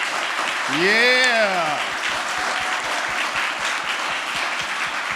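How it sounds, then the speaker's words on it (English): A large conference audience at a tech inclusion event breaks into loud, sustained clapping that fills the room, while a voice calls out briefly near the start. "So just a real big clap, right?"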